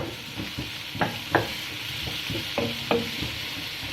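Mixed vegetables frying in a pan, a low steady sizzle with a few scattered spatula taps and scrapes, quiet and without speech.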